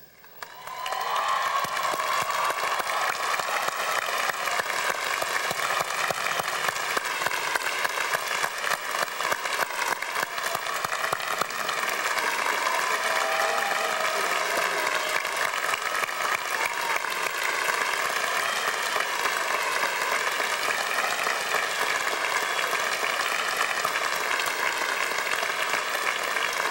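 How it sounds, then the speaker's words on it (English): Sustained applause fills a university commencement ceremony as the audience, graduates included, stands to clap for the class of 1997, a dense steady roar of hands lasting the whole stretch with faint cheering mixed in. "we all stand up, everyone including the graduates, and applaud the class of 1997"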